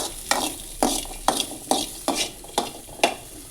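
Ingredients for chammanthi chutney are sautéed in a pan until browned: a steady close sizzle runs beneath about seven rhythmic spatula scrapes and stirs, roughly two per second, with no talking.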